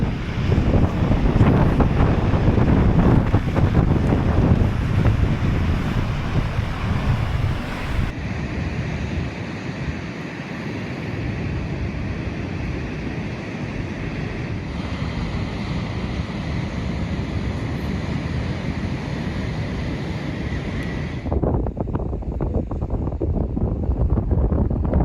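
Cold wind gusts across the beach at Sopot in Poland, a loud, rough roar of buffeting against the microphone mixed with washing surf, steady and close throughout, with no voices.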